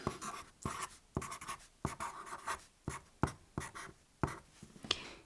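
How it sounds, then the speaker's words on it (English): Pen or pencil writing by hand on paper, copying a passage about a zombie, with short scratchy strokes in bursts and brief pauses, close and quiet. "Here I am writing about the zombie."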